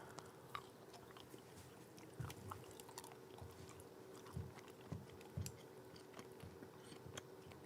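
Flavored gum being chewed close to the mic, with soft wet smacking and crunch-like chews recurring in an irregular rhythm over a low steady room hum, with no talk.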